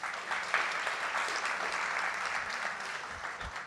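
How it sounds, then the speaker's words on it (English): An audience at a Good Pitch Local Hawaiʻi film pitch event applauds, a dense steady wash of clapping that fades slightly toward the end. "Thanks for the applause."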